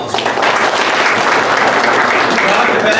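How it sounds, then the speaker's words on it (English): A crowd at a community gathering gives the staff a round of applause, loud and steady clapping that fills the whole stretch, with some voices mixed in underneath. "if y'all could just give my staff and the ones that are part of that program a round of applause"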